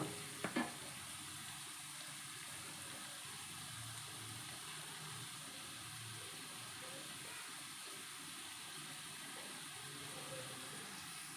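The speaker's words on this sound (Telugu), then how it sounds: "ములంకాడని ఒక 5 minutes ఫ్రై చేసుకున్నా అంటే దీంట్లో ఉన్న అది పచ్చిదనం అంతా పోయి కొంచెం ములంకాడ జ్యూసీగా ఉంటుంది" Moringa drumsticks fry gently in a pan with a steady, soft sizzle that holds at a low, even level throughout, broken only by a brief clatter near the start.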